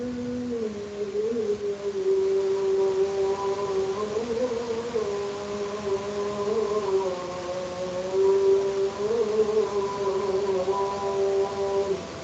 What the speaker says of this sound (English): They're calling people to prayer, to say their prayers.